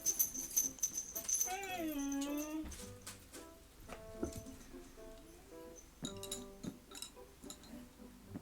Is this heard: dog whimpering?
yes